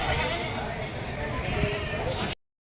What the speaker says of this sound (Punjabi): ਦੇਖੋ ਬਾਈ ਬਰਬਰੀ ਬੱਕਰੀ ਆ ਕਰੋ ਚੱਕ ਛੋਟੇ ਛੋਟੇ ਕਿੰਨੇ ਪਿਆਰੇ ਮੇਮਣੇ